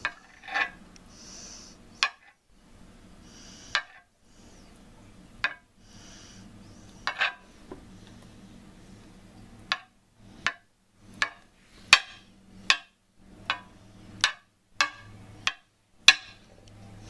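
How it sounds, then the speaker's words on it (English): A knife chops peeled boiled eggs on a cutting board in a quiet kitchen, with sparse, uneven taps that grow into a quicker run of sharp knocks toward the end, with no voices. "now that you have all your eggs deshelled, you can start cutting them up"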